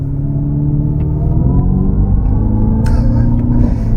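A Dodge Charger Daytona EV pulls hard through an acceleration run, its Fratzonic exhaust system giving a loud, steady, low droning rumble like a muscle-car engine, heard close and continuous throughout.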